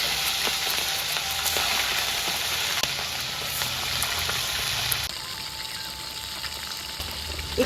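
Salted sea fish fries in hot oil until crispy, giving a steady, dense sizzle and crackle that continues without a break and softens a little partway through.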